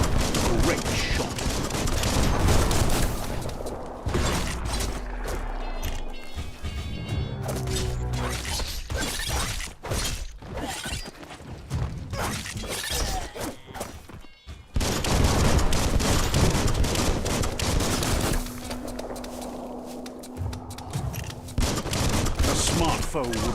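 Gunfire in the video game Biomutant comes in repeated rapid bursts mixed with impacts and crashes, loud and busy, with a voice talking at times between and over the shots.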